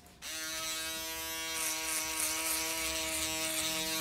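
Electric hair clippers switch on and buzz steadily at close range while cutting a man's layered haircut, the tone growing slightly rougher as the blades move through hair.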